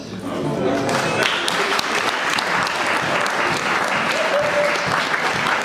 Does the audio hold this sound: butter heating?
no